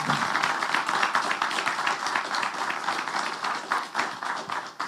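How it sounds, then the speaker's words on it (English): A room full of people applauds a civil rights and courts discussion panel, dense steady clapping that holds at an even level for several seconds before starting to thin near the end. "I want to ask all of us to give an applause for our panel's service and also their accomplishments"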